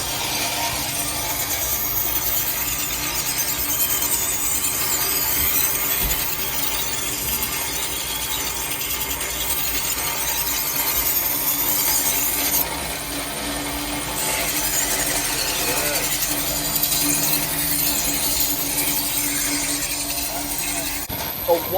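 A pedal-driven, bicycle-powered knife sharpener grinds a blade against its chain-driven stone, producing a continuous harsh scraping hiss that holds steady and loud throughout.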